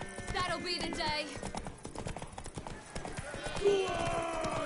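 Hooves of a horse clip-clop in a fast, busy rhythm in The Witcher 3 game, heard under voices talking and other game sounds.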